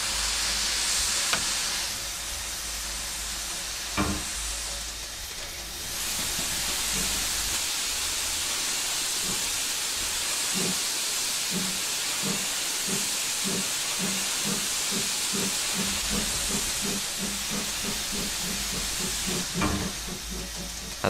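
A steam locomotive's open cylinder cocks in Train Simulator Classic give a loud continuous hiss, with sharper bursts at intervals and a run of rhythmic chuffs through the middle that fades back to steady steam.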